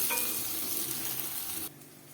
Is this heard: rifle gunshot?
no